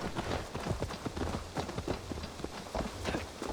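Hooves of a summoned horse arriving in the video game Assassin's Creed Valhalla, a brisk, steady clip-clop of repeated strikes over faint background ambience, heard alone without talk.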